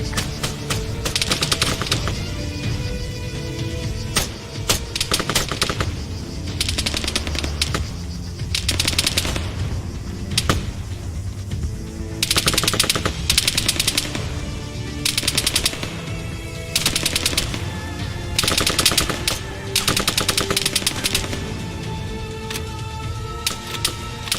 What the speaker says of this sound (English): Engage that machine gunner.